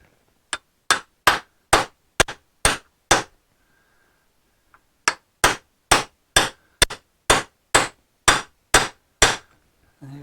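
Sharp metallic hammer blows strike a socket, driving a part into the front hub of a 1955 Triumph TR2: a run of seven evenly spaced hits, a pause, then about ten more, loud and close with no talking.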